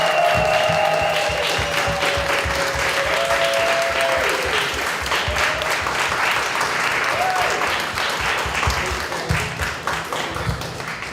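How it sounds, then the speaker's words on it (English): A large audience at a panel event applauds steadily, dense clapping filling the space, with a few voices and a drawn tone audible beneath before the applause gradually thins. "Can we get a round of applause for our amazing panel?"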